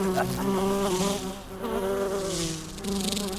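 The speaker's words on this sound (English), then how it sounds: "I'm a bee, and I bumbled my way into your car. Buzz." A bee buzzes inside a car, a loud, close, continuous drone with a wavering pitch that swells and dips twice before rising again, with no voices over it.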